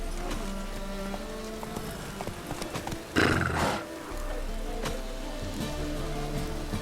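Roach, the horse in The Witcher 3, gallops with steady hoofbeats over a low game rumble, broken midway by a loud, breathy whinny.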